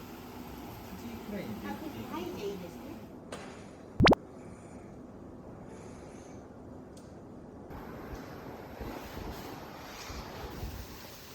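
Water flows and splashes in a continuous wash through a bamboo hot-spring cooling structure outside a Japanese hotel room, with a gusty, windy rumble, interrupted by one sharp click near the middle.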